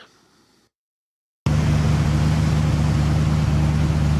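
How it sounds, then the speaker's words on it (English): A 1966 Ford Mustang engine with its clutch removed and a new flywheel fitted, warming up at a steady idle: after a brief quiet moment it starts and settles into a loud, continuous low rumble with an even hum. "Just letting the motor warm up a little bit"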